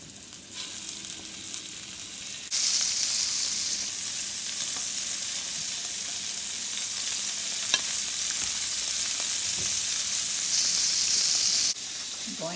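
Meat searing in a hot pan while cooking a Valentine's Day dinner, a steady loud sizzle and hiss that jumps up suddenly and holds for about nine seconds with a few small pops, then drops back at the end.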